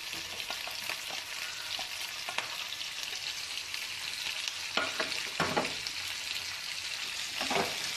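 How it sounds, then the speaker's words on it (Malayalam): Capsicum and prawns fry for chilli prawns, a continuous hiss of oil under intermittent scraping strokes of a spatula stirring the pan, close and steady with no speech. "ഒന്ന് ഇളക്കി കൊടുക്കാം."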